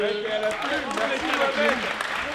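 A debate competition audience in a French hall applauds, a steady wash of clapping running under a speaking voice.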